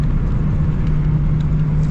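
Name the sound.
Nissan 240sx driving with rough coilover suspension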